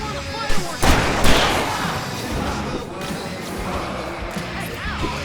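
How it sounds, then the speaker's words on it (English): Fireworks set off in the video game Alan Wake Remastered, several sharp booming bursts in quick succession followed by crackling and rumbling under in-game chatter. "I can set off one of the fireworks!"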